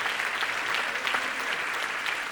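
A church congregation in Lisbon claps steadily in a sustained, fairly even round of applause heard from within the hall.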